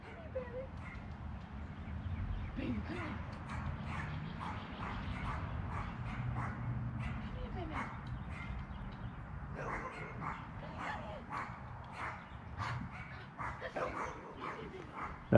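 A dog barks repeatedly in short yips and woofs mixed with whimpering, moderately near, over a steady low background rumble, with no one talking.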